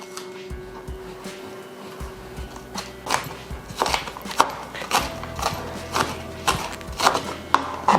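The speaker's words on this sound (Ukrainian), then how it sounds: "все січу, цибулю. Зараз буду сікти кінзу." A knife chops onion and cilantro on a board, a quiet start giving way to irregular, fairly close taps and thuds that come in quick bursts; no one talks.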